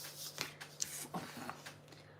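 Tarot cards shuffled by hand during a live reading, a soft papery riffle of quick flicks and light slaps heard close up and quietly, with no talking.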